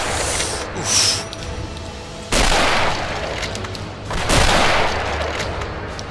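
Gunfire in the shooter game Castle Gothicstein, bursts of loud shots and booming impacts over a steady din, with a sharp heavy volley striking midway and another surge near the end.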